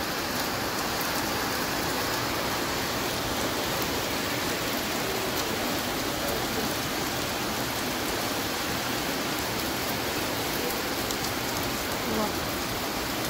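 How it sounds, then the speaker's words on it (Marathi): Heavy rain pours steadily and densely, a loud continuous wash of drops on surfaces, with faint voices underneath. "आमच्याकडे खूप खूप मोठा पाऊस चालू झालाय आता."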